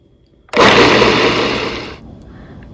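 A food processor grinds ingredients for Armenian lahmajoun into a coarse mix, starting abruptly with a loud, steady whirring roar that holds for about a second and a half, then cuts off, leaving quiet room sound.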